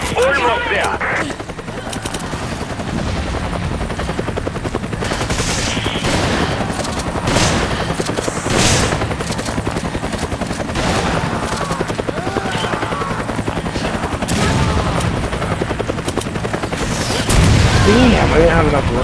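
Bursts of gunfire from a Resident Evil 5 Versus match, repeated rapid shots and fusillades over a constant engine-like drone, with several loud cracks toward the end; voices talk over it.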